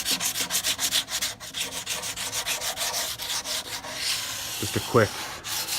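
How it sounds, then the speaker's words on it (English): A sanding block rubs back and forth along black willow wood edges in quick, steady strokes, close and rhythmic. A brief spoken phrase breaks in near the end. "use the block and just put a little bevel on these edges here, just to take the sharpness off the corner"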